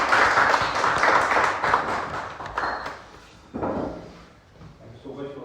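An audience at a Toastmasters Sunday session applauds as a speaker comes on stage, the dense clapping tapering off, with a few thumps and a voice starting to talk near the end.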